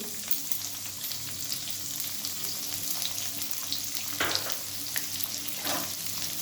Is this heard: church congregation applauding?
no